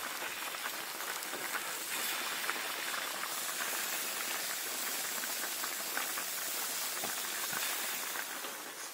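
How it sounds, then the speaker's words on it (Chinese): Fish bones simmer in salted water in a pot, giving a soft, steady bubbling hiss that stays faint and even throughout, with no talking. "加水，加点盐就行了。先把那个鱼骨头熬熟。"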